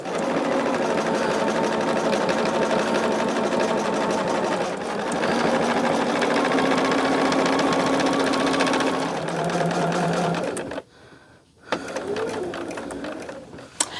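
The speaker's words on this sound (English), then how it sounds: "I have more binding made up, so I can easily sew another piece on" A sewing machine stitches a binding strip onto a quilt with a steady, close whirring that runs for about eleven seconds, stops briefly, then starts up again.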